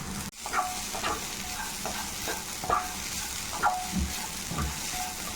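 Shredded cabbage with a pinch of turmeric frying in a pan, a soft continuous sizzle punctuated by intermittent scraping knocks as it is stirred.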